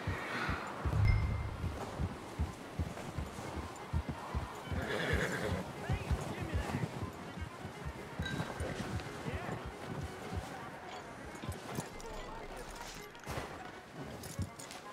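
Horse whinnies loudly early on, then hooves clip-clop steadily through the rest in the open-world western game Red Dead Redemption 2, with a voice speaking over the hoofbeats.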